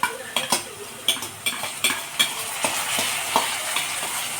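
Ginger pieces dropped into hot oil for lemon pickle, frying with a steady close sizzle broken by repeated sharp scrapes and clinks of a spoon stirring against the pan.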